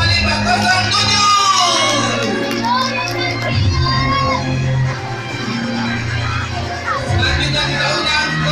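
Crowd of students cheering, shouting and whooping for a contestant at a junior high school girls' fashion show, a loud, continuous roar of young voices with bursts of yelling and no clear clapping.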